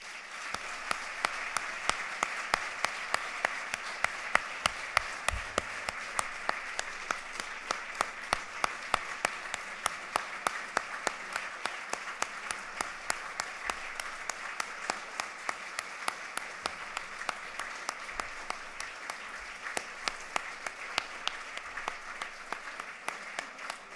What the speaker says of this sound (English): please join me in a final round of applause to recognize this incredible donation